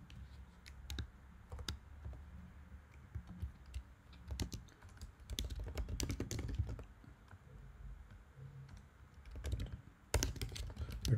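Typing on a computer keyboard while writing code for a factorial function during a lab lecture, irregular bursts of close, quiet key clicks with short pauses.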